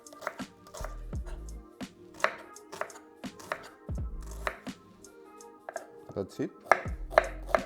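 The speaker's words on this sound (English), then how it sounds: "So I'm gonna cut it in half, and I'm just gonna slice it." An onion sliced with a knife on a cutting board gives crisp, irregular chopping thuds and clicks, close and fairly quiet, with a short spoken remark near the end.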